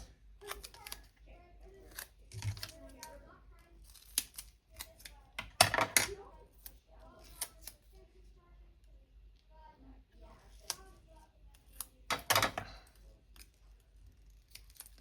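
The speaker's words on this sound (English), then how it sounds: "It's almost time to clean my sticky scissors." Several short snips of sticky scissors cutting cardstock paper for card making, spaced irregularly, with quiet talk and small handling clicks in between.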